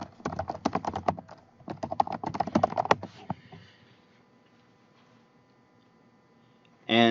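Two quick bursts of typing on a computer keyboard, close and crisp rapid key clicks separated by a short pause, then a quiet stretch with faint hum and a brief louder sound at the end.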